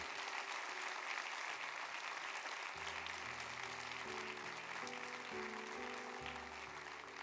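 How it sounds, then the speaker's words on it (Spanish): A church congregation applauds steadily for God at a Spanish-language service, a broad wash of clapping that runs the whole way while sustained keyboard chords enter partway through and carry on beneath it. "¿Qué tal si le damos un aplauso a ese Dios que es el más grande de todos"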